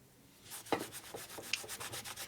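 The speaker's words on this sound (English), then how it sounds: "Rub it back and forth a little bit." Rag rubbed back and forth over a part of a 1941 Harley WL 45 flathead engine, quiet close scrubbing strokes repeated in a steady rhythm of about a dozen passes, with a couple of small scrapes.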